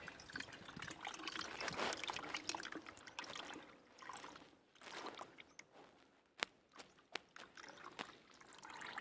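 Water drips and trickles from a cloth bundle of sprouted mixed grains being squeezed by hand, a soft steady wet patter with a few sharper drops near the end.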